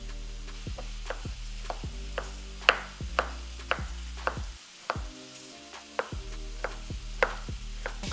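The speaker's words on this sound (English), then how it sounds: "we're gonna start dicing up the tomato" A knife dices tomato on a cutting board in steady, evenly spaced chops, each a sharp close tap, with a soft sizzle of hot dog franks frying underneath.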